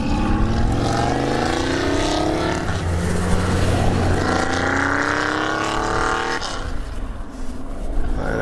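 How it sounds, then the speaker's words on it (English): A Corvette with a loud muffler drives past outdoors, its engine roar swelling and rising in pitch before dropping away, loud and close and heard alone. "And that guy really liked his muffler. Actually, that was a Corvette."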